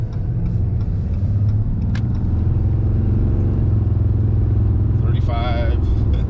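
A tuned 2019–2020 RAM 2500 pickup with the 6.7 Cummins diesel pulls hard, its low engine rumble loud and steady from inside the cab, with a rising whine near the end and someone talking over it.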